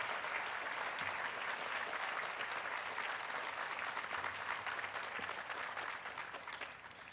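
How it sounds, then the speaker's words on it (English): An audience at a university commencement ceremony claps in a steady, sustained wave that fills the space, then slowly fades toward the end, with no voices over it. "I want to give Tyler Perry another round of applause for that inspirational address"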